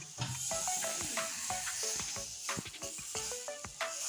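Steady sizzling of batter bread cooking in a pan on a gas stove, with scattered sharper crackles and pops over a constant hiss.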